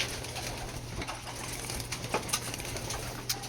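Tippler pigeons cooing softly nearby over a low steady hum and background noise, with a few sharper chirps.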